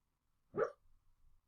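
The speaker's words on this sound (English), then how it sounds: "My dog is sleeping on the bed next to me, and she's barking in her sleep." A dog barking in its sleep gives a single muffled woof, soft and close, followed by faint low rustling and quiet breathing sounds.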